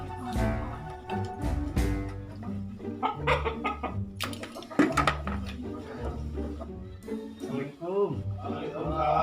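Chickens cluck and squawk busily at close range, with a rooster's calls mixed in, amid lively overlapping conversation.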